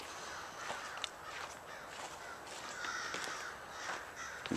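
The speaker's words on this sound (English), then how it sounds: "The crows are going nuts." Crows caw repeatedly at a distance over a steady outdoor background hiss, with a faint footstep or two.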